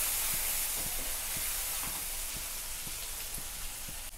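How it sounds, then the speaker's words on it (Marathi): Garlic and green chillies frying in hot oil give a steady, bright hiss with faint regular popping, close and alone without talk. "लसूण आणि हिरवी मिरची मी कच्चे काढलेले आहे म्हणून तेलात छान असं तळून घेते"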